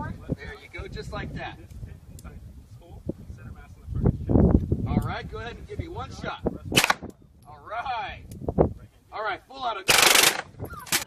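Uzi submachine gun fired in a played recording, short bursts of cracking shots mixed with wind buffeting on the microphone and people talking, ending in a loud noisy burst.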